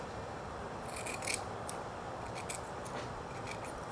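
Scissors snip a slit into the fiberglass cloth at the nose tip of a surfboard being built, a few faint, quiet cutting snips in a row against light background hiss.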